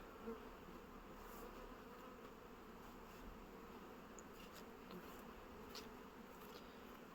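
A steady, dense hum of many honeybees flying around the hives of an apiary, a continuous buzzing drone with small swells, heard close and alone with no talking.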